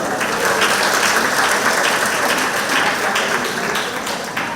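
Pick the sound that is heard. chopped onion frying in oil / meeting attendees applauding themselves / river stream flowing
meeting attendees applauding themselves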